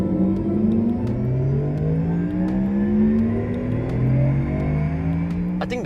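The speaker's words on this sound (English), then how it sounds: "I think the futuristic driving sounds can be a bit disorientating after a while" Porsche Taycan electric car producing its synthetic futuristic driving sound, a steady layered whirring hum with tones sliding up and down as it accelerates, loud and close throughout.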